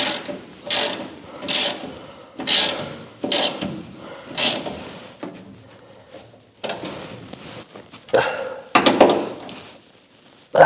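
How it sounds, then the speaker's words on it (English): A hand ratchet tightening 5/16 bolts on the fuel tank of a Scout under restoration, with repeated bursts of fast close clicking separated by short pauses, loud and clear with no talk. "I'm going to get a ratchet and tighten them up."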